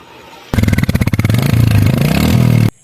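A new motorcycle engine starts up loud and close, sputtering in quick pulses before settling into a steady, throaty idle that cuts off abruptly.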